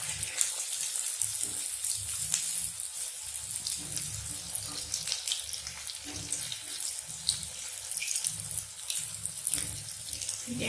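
Potato balls for potato smileys fry in oil with a continuous, hissing, bubbling sizzle that stays fairly even throughout, close to the mic and without talk.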